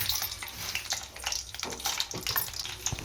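Urad dal dropped into hot oil sizzles and crackles steadily, a busy hissing fry close up with no talk, while tempering for a Sankranti festival dish in a North Karnataka home kitchen.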